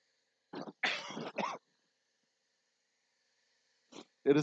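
A short run of coughs and a throat clear from a persistent cough and cold in quiet surroundings, followed by a pause and two more brief coughs.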